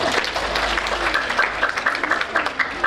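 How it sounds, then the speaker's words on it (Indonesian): Applause fills the room from a group, with steady overlapping clapping that carries on for the whole stretch and a voice speaking faintly underneath. "aplaus untuk semuanya"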